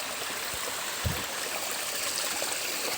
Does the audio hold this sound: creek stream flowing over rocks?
yes